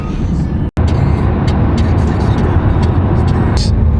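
A McLaren Artura on summer tyres drives fast, with a loud steady road and engine roar filling the cabin and a brief cut near the start.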